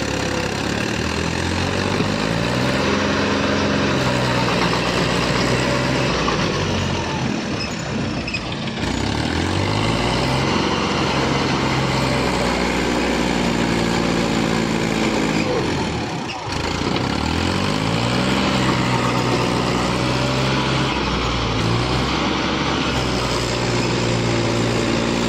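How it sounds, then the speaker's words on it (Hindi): A Mahindra 295 tractor hauling a loaded trolley labours to pull out of a muddy field, its diesel engine droning loud and close, revving and dipping in long strained surges, with voices faintly under it. "और इस बार देखते हैं भाइयों निकल पाता है नहीं ट्रैक्टर।"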